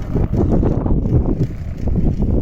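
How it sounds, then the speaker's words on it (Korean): Strong wind gusting across a snow-covered rooftop during a heavy February snowstorm, a loud, continuous low roar and buffeting with no speech. "이렇게 지금 바람 부니까 막그 눈바람 있잖아요"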